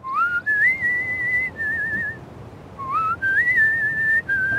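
A clear, melodic whistled tune by a Sim in The Sims 2, two short repeated phrases of rising then sustained notes, close and alone over a quiet background.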